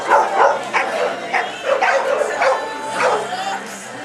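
Several dogs bark and yip in short repeated bursts at close range, with a few whimpers mixed in, while people talk nearby.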